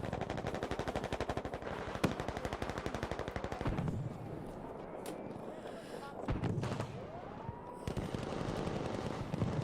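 Rapid automatic gunfire in a competitive team shooter match, a dense stream of close shots with bursts, a brief lull and more firing, with a commentator's voice running over it.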